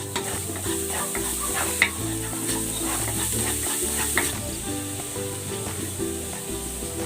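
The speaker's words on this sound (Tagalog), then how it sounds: "Magigisa ako ng bawang." Garlic sautéing in a pan for a Filipino pork ribs dish, a steady close sizzle with repeated scraping and stirring strokes and a couple of sharp knocks of the utensil.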